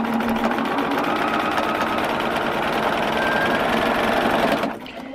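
A sewing machine runs a 1/4 inch seam joining quilt pieces, a steady, close, rapid whirring stitch that continues for nearly five seconds before stopping abruptly.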